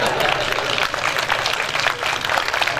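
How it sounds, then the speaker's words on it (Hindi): Applause from an audience at an Urdu poetry mushaira, a steady broadband wash of clapping that stays loud and dense for the whole stretch, with no voices standing out above it. "मेरा ख्याल है कि असली तालियां ठीक हैं।"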